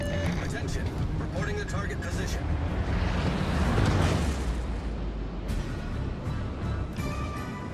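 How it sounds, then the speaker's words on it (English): Torpedo hits and a ship being destroyed in World of Warships Legends, heard as a long rumbling blast with heavy low roar that swells and fades, loud and close, partly under someone talking. "there's three more torpedo hits and a destruction"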